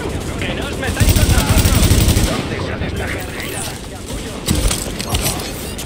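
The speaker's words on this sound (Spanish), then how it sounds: "Están disparando, ¿eh? ¿Quién dispara?" Enemy gunfire in The Division crackles in dense, loud bursts of automatic fire with single shots mixed in, close and continuous, over a busy game soundscape with faint voices.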